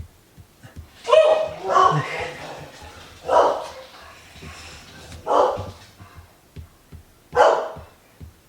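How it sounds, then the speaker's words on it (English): Dogs bark at coyotes close by, loud and near, in five separate bursts of barking spaced about two seconds apart, with quiet gaps between them. "Here's some coyotes. The dogs are about to go off."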